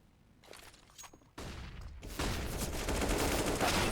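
AK rifle fire in a Counter-Strike match between FORZE and Team Spirit, sparse shots at first, then a loud sustained burst of rapid gunfire and clatter that builds toward the end, with no voices.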